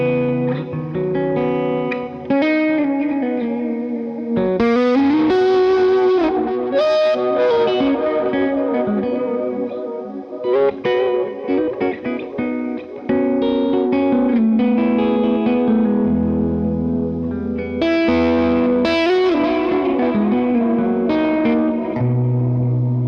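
An electric guitar plays a melodic line of sustained notes, washed in echoing delay and lingering reverb, with no voices.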